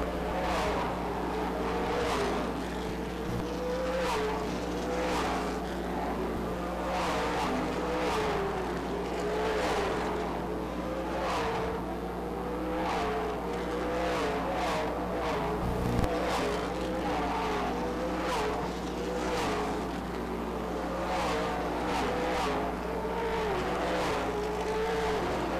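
Stock cars race at Rockford Speedway during the Spring Classic, engines roaring continuously as cars sweep past in repeated waves of rising and fading whine, heard from a moderate distance.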